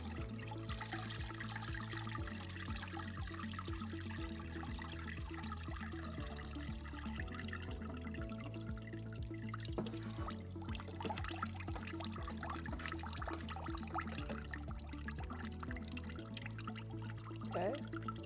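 Sanitizer runs through an Electro Freeze CS-700 soft-serve machine during sanitizing: a quiet, continuous gurgling flow of liquid over a low, steady mechanical hum.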